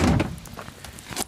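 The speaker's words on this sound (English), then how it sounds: "Let's just open the door." A car door opens with a short, solid thunk and rattle at the start, then a quieter handling sound, and a sharp click near the end.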